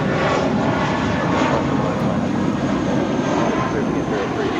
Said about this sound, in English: This is Volaris flight 5921 departing to Morelia on an A320.